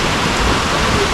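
Steady rain pours down around the Amaravathi Express as it sits stopped on the Hubballi–Goa line near Dudhsagar, a dense, even hiss filling the short stretch at a loud, constant level with no voices.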